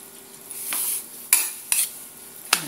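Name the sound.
stirring pork with vegetables in a pan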